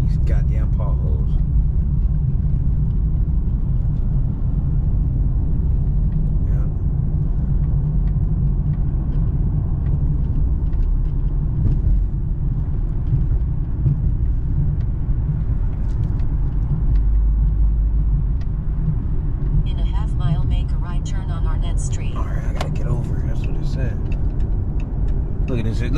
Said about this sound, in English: Here we go with these goddamn potholes.